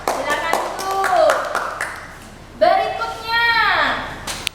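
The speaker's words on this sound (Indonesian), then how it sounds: "beri tepuk tangan dulu untuk kelompok Amsal" Classroom applause for a student group, a patter of claps that rises and falls under a teacher's and children's voices, moderately close.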